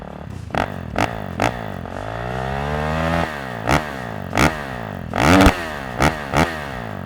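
A 2024 Kawasaki KX450 dirt bike fitted with a Pro Circuit T6 exhaust revs repeatedly, sharp throttle blips rising and falling between longer sweeping revs, close and loud with no voices.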